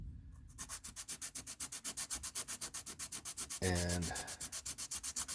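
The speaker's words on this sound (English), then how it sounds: "My basic method for thinning this out is to just get some sandpaper" Rhythmic back-and-forth scraping of sandpaper on a baritone ukulele bridge, close and even, about seven strokes per second, briefly interrupted by a single spoken word.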